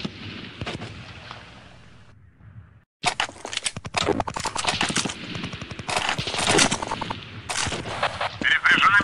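Rapid bursts of gunfire from Counter-Strike 1.6 on a map ported from Day of Defeat, loud and clustered, with a short lull before dense automatic fire resumes.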